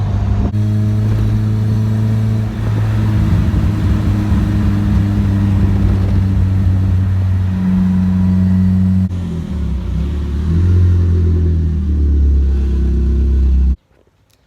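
Mazda Miata with a swapped GM Ecotec engine accelerating, a loud, close engine drone climbing in pitch through several gear changes with brief dips between shifts, then cutting off abruptly at the end, no speech.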